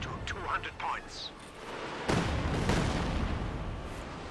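Katyusha rocket barrage in the strategy game Company of Heroes 2, a series of deep booming impacts swelling into a heavy rumbling wash, with a commentator's voice audible over the first part.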